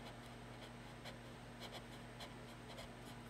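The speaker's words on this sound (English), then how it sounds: "Let's try to erase the pencil line." An eraser rubbing out a pencil line on a clay board makes faint, rhythmic scratchy strokes over a steady low background hum.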